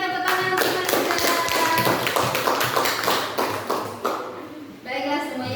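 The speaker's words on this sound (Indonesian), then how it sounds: "tepuk tangan untuk Melinda" A class of ninth-grade students at a school in Dumai claps for a classmate, a dense, steady patter of many hands close by that fades briefly near the end, with voices mixed in.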